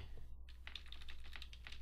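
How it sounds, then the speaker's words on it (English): Computer keyboard arrow keys pressed in a quick series of light clicks, about ten taps in a steady rhythm, faint and close over a low background hum. "moving it over using, using the arrow keys"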